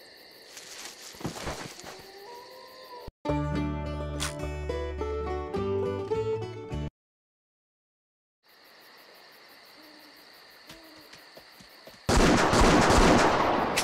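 Gunshots from the Wii hunting game Buck Fever, sharp cracks among outdoor insect chirps, followed by a burst of musical game sound, a silent gap, then a loud noisy blast near the end.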